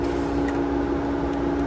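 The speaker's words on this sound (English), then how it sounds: "Now, what you're hearing right now is the fans." Cooling fans on a twin-turbo Mercedes V12 running at full speed during ECU tuning make a steady, loud, continuous whirring drone with a constant hum throughout.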